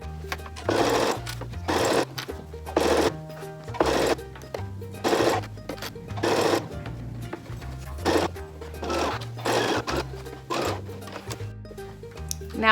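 A sewing machine stitches a reversible bucket hat in short bursts, running briefly, stopping, then starting again in a stop-and-go rhythm, close and clear.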